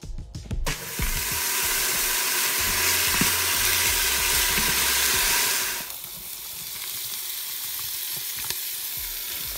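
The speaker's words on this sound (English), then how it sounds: "So I'm going to fry up the beef" Beef frying in a pan gives a loud, steady sizzle for about six seconds. It then drops to a softer crackle as the cooking settles, with a few light clinks of utensils.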